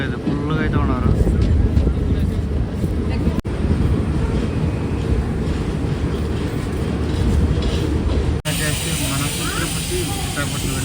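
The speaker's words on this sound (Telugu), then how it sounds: "విశాఖపట్నం వెళ్ళి తిరుమల ఎక్స్ప్రెస్ అయితే వచ్చేసి శ్యామలకోట జంక్షన్ నుంచి అయితే బయలుదేరిపోయింది." The Tirumala Express pulls out of Samalkot Junction bound for Visakhapatnam, a loud steady rumble of rolling wagons and engine noise right beside the listener, with brief clanks midway and a sharper shift near the end.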